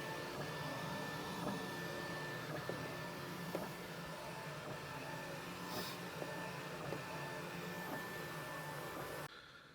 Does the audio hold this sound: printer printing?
yes